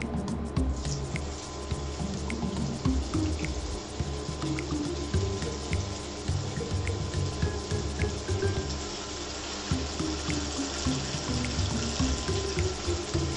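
Masala-coated chicken strips frying in hot oil, a dense, steady crackle and bubbling that runs loud and close throughout with no talk.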